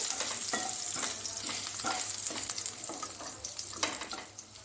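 Nigella seeds sizzling in hot oil in a pan while a spoon stirs them, a continuous crackling fry broken by repeated scraping strokes at an uneven pace, close and moderately loud.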